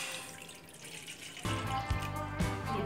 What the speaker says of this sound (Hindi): अब हम इसमें 2 ग्लास पानी डाल देंगे